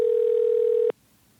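A telephone dial tone hums steadily at moderate volume for almost a second, then cuts off abruptly, leaving near silence.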